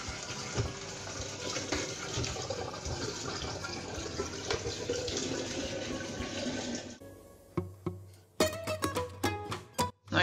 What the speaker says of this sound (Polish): po prostu sobie ten czajnik włączę, żeby się to przegotowało